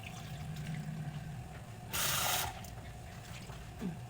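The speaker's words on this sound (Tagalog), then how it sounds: "So, lagyan natin ng tubig from Mississippi River." Water runs into a cooking pot for beef tripe soup, heard as a brief loud rushing gush about half a second long, set against steady low background noise.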